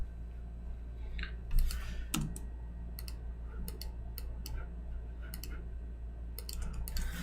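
Scattered, irregular clicks from a computer keyboard and mouse while text is edited on a presentation slide, close and fairly quiet, with no voices.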